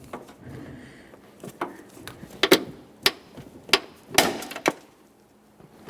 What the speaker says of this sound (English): We'll pry this right off of the body of the vehicle.